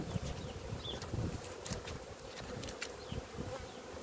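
Honey bees buzz steadily at an open beehive outdoors, a close, continuous drone with individual bees whirring past, while a few soft handling knocks sound underneath.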